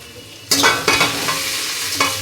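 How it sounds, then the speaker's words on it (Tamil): Oil crackles and sizzles as tempering spices for rasam hit a hot pan, with a couple of sharper bursts of spattering, close and steady throughout. "இப்போ இதை போட்டு நம்ம நல்லா ரசம் தாளிக்கிறது பொரிச்சுக்கலாம்"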